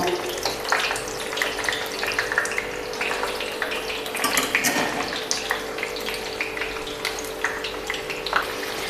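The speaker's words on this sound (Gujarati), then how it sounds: "બધા જ રીંગણ આપણે એક સાથે તળી લેશું" Steady, crackling sizzle of eggplant frying in hot oil, continuous and close, with occasional bubbling pops and no talking.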